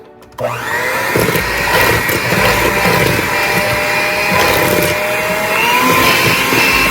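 An electric hand mixer whirs steadily as it creams butter and white sugar for apple cinnamon chip oatmeal cookies, switching on abruptly and holding a loud, continuous motor whine throughout.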